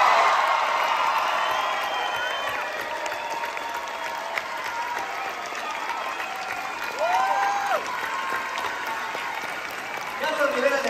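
An audience at a theatre musical's premiere applauds as actor Erik Rubín is welcomed, a sustained crowd of clapping that stays steady and fairly distant, with a voice speaking over it and some cheering.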